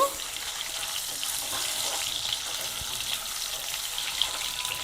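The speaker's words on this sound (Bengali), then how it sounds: "ডিম আর আলুটা একটু ভেজে নেব" Egg and potato frying together in a pan, giving a steady, dense sizzle that stays close and even throughout with small crackles and no talk over it.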